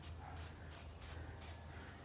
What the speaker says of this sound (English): just spraying white right on the white wall